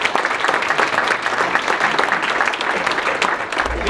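Guests at the East Boston Chamber of Commerce installation dinner give a warm round of applause: thick, continuous clapping from a full room that holds steady throughout.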